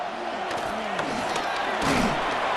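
A stadium crowd in the American football game Madden NFL 26 roars in a continuous dense wall of cheering that rises toward the end, with faint thuds mixed in.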